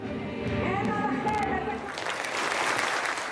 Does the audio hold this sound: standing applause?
yes